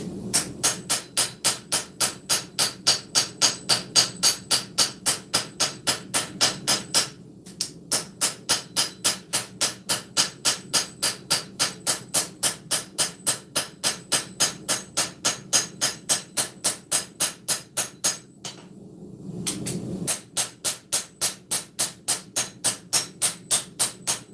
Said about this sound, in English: We're going to switch to the old lightweight auto body hammer.